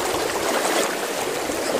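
A strong river current rushes past steadily and close by as a dense, unbroken wash of flowing water.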